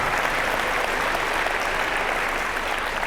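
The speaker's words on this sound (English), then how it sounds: "a huge round of applause for all of you for making this happen" An audience at a music clinic claps in a dense, steady round of applause that stays loud and even throughout, with no voices over it.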